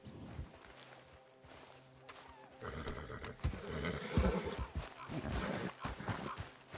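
A horse in Red Dead Redemption 2 gives a clear whinny, with hoof clops and shuffling movement after it, close by and fairly prominent.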